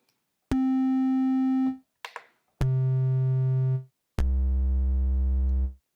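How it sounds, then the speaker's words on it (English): Triangle-wave notes from the oscillator of a U-He Tyrell N6 software synthesizer, three sustained tones at stepped pitches, bright and buzzy yet soft, played alone with short gaps. "Bring it up, we get a triangle."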